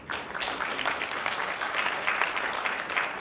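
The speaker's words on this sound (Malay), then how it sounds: "Beri tepukan untuk JAKIM." Steady applause from an audience at a Malaysian halal forum, sustained and fairly loud throughout with no pauses.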